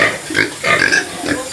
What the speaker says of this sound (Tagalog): Tanaw ta sa mga baboy nila guys diri sa pigiri oh kadagko na kaayo oh